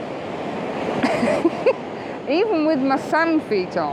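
Ocean surf rolls in on a Northumberland beach in rain, a steady broadband wash running throughout while a person talks over it.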